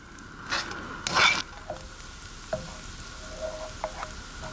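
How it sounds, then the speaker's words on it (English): Onions fry in cold-pressed rapeseed oil, giving a soft, steady sizzle with a few louder bursts of stirring and scraping near the start, then quieter pops and clicks close by, with nobody speaking. "it's because I'm frying them in cold-pressed rapeseed oil, which has a wonderfully mustardy flavour."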